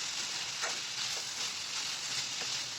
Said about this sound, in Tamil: தாமரைப்பூ தண்டையும் போ போட்டாச்சு நல்லா வதக்கலாம்